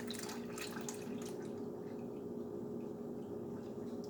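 Two more cups of liquid poured into a saucepan for homemade hot cocoa, a steady, faint watery stream running throughout with a few splashy drips at the start, no voices.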